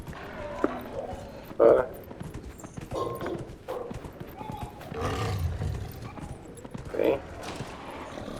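Hoofbeats of a horse ridden in the video game Dragon Age: Inquisition, a steady clip-clop running beneath someone talking, with a couple of louder thuds standing out.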